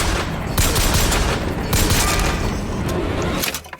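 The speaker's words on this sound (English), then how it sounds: "Little adaptive sound effect for the headshot to go with the song." A BioShock Infinite headshot effect rings out amid a dense, loud burst of gunfire and booms, the shots layered thickly over several seconds with no voices.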